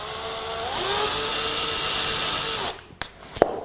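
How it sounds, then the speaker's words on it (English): A power drill bores holes into a cake drum, whining loud and steady for about two and a half seconds with a slight pitch rise as it bites, then stopping and followed by two sharp clicks. "we just want to drill some holes into the cake drum"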